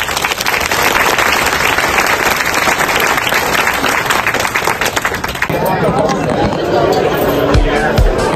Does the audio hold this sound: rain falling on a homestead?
no